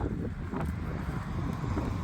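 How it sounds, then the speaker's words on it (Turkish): Strong wind buffets the microphone in a continuous low rumble at a pigeon loft, with no other sounds standing out. "Hava çok rüzgarlı arkadaşlar."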